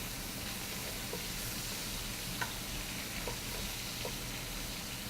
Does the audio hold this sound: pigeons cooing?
no